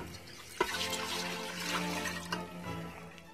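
Roast beef juice pours back into an Instant Pot, a steady close liquid stream with gurgling and a small clunk early on, and no talking.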